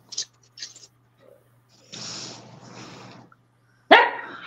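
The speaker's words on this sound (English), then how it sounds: "Nobody wants to hear you barking." A pet dog barks in short bursts, a few sharp yaps early on, then a longer rough stretch and one loud close bark near the end, indoors with no one talking.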